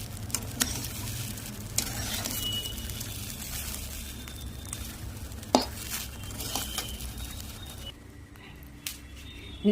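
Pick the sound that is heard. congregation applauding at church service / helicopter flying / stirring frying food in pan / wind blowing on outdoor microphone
stirring frying food in pan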